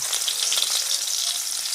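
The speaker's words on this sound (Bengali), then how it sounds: "কড়াইয়ে তেল দিয়ে পেঁয়াজটাকে ভালো করে ভেজে নিলাম।" Chopped onions frying in hot oil in a wok give a loud, steady, dense sizzle with fine crackle throughout, close up, with no voices.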